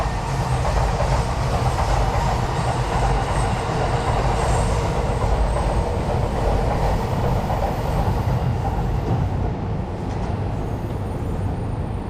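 Trains rumble past continuously for several seconds in Tokyo, wheels clattering and faintly squealing on the rails, close and loud, with no voices.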